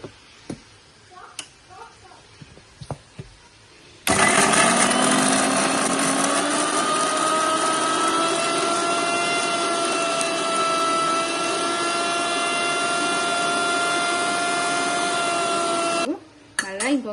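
A mixer grinder whirs loudly for about twelve seconds as it grinds tomato chutney, a steady high motor drone that starts abruptly after a few quiet clicks and stops just as suddenly.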